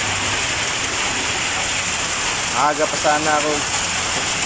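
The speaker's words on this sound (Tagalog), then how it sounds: "Grabe yung lakas ng ulan" Heavy rain roars steadily on a metal roof at a range, a dense wash of noise, with a brief voice murmuring under it partway through.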